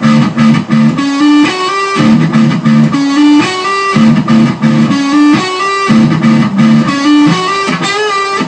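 A distorted electric guitar plays a riff, loud and repeating, with chugging chords and bright high notes in a steady rhythm, with no talking.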